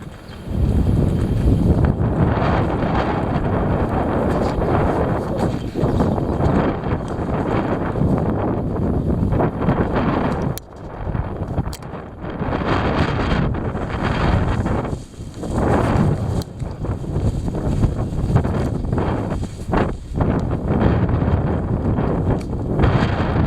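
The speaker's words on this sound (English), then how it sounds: "Winds blowing hard." Heavy wind gusting hard outdoors, roaring and buffeting the microphone in a loud, continuous rush with surges and brief lulls.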